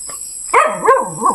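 A dog near a hut in the countryside barks three times in quick succession, loud and close, each bark harsh and falling away, with no talk over it.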